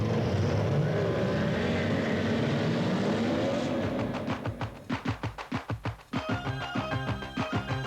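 Racing powerboats with high-revving engines roar past on the water at Chasewater, a broad engine wash giving way to a series of rapid pulsing passes and changing engine pitches.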